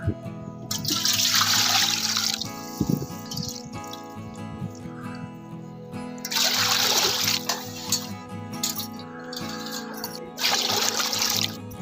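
Water poured into a pot while making rava kurdai dough, heard as three separate splashing pours with quieter gaps between them and a low steady hum underneath.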